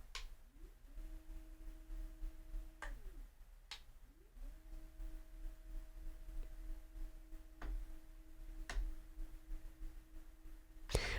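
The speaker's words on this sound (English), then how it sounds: "you're hearing a little bit of noise off of this motor mechanism" A Zeapon Micro 2 motorized slider runs at its third speed setting, giving a faint, steady two-tone motor whine that stops and restarts, with a few sharp clicks of the mechanism in a quiet setting.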